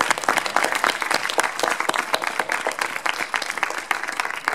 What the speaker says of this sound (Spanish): Démosle un aplauso a Carlos.